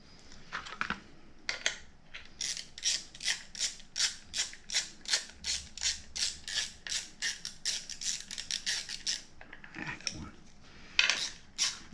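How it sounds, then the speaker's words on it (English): A Snap-on ratchet clicking close up in a workshop, a long run of fast, even pawl clicks in steady strokes, with brief pauses at the start and end. "If you ever have the opportunity to buy this particular Snap-on ratchet, I highly recommend it"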